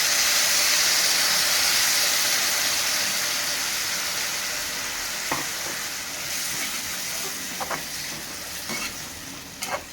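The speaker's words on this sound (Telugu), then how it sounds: "ఇప్పుడు దీంట్లో నూనెలో ఫ్రై అయిపోయింది కదా" Bitter gourd frying in hot oil for a tangy curry, a steady broad sizzle that slowly eases, with a few sharp stirring clicks and scrapes near the end; no one speaks.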